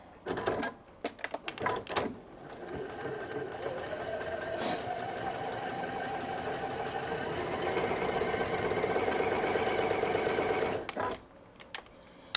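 A sewing machine stitches across the end of a quilt block, with a few short bursts before it settles into one long, steady, close run of rapid stitching that stops abruptly.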